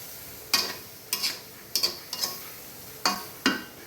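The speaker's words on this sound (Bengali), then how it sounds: "এখন এই কষক আমি ঢাকনা দিয়ে দিব।" Metal lid set onto a pot of hilsa fish curry, a series of six sharp clinks and rattles spaced about half a second apart, close and clear in a quiet kitchen.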